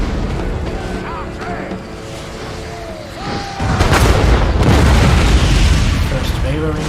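Artillery shelling during a battle in the Empire: Total War video game, with booming blasts and bursts swelling into a loud, dense rumble midway, with a voice talking over it.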